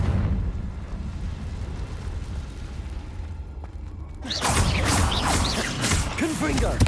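A Confringo blasting spell explodes in the Hogwarts Legacy video game, a sudden loud burst of crackling debris halfway through that follows a quieter stretch of game rumble and keeps roaring to the end.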